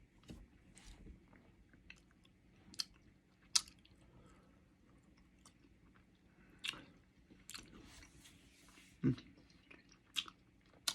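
Gum is chewed close to the mic in faint, sparse wet clicks and squishes over a quiet background.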